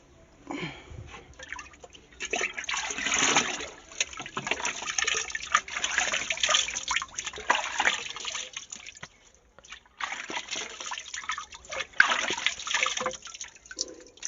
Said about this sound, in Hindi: मुंह धो लेता हूँ।